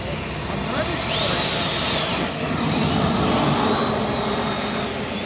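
A remote control MB 339 model jet engine whines steadily with a high, sustained turbine tone and broad roar at an RC flying field, and people talk nearby.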